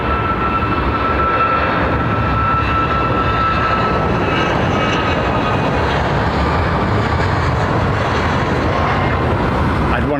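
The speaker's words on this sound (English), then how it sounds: "Let's fire up these LEAP engines." A jet airliner with CFM LEAP engines at London Heathrow Airport, its engines giving a loud, continuous, broadband roar.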